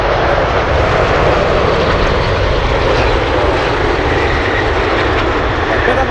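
A Boeing 747 Heavy cargo jet roars on takeoff from a runway at Anchorage airport on a windy day, a loud, steady, broadband engine rumble that fills the whole stretch.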